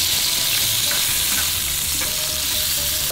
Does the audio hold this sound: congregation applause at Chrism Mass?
no